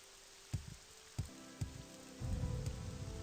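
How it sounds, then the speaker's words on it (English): Steady rain falls at night in the video game Morrowind, a continuous wash of patter that swells louder near the end, with a few soft thuds along the way and no talking. "And it's dark and raining."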